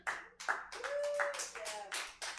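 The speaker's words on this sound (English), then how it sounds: "Give him a round of applause for doing all the fun jokes he did." Audience at a live LGBTQ comedy showcase claps for a departing comedian, scattered hand claps mixed with whooping and cheering voices, lively and close.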